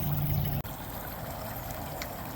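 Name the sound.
water flowing through a channel dug from a pond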